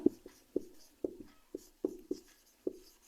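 Pen writing on paper during a maths lesson, a series of short distinct scratching strokes in an irregular rhythm, close and quiet, with no speech.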